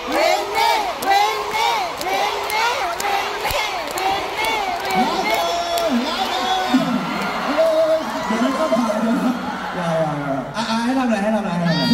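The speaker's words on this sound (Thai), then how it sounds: "ที่เราได้ยินเสียงกรี๊ดเมื่อกี้ที่ดังขนาดนี้" Crowd of fans at a live talk event screaming and cheering, loud, continuous and close with shrill shrieks and rhythmic chanting, a voice speaking over the din.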